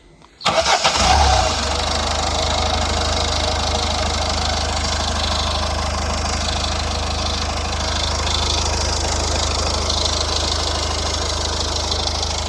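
A Citroën C-Elysée 1.6 HDi diesel engine cranks and catches after a fuel filter change, then settles into a loud, steady, close-up idle with a clattery diesel rumble throughout, no talking.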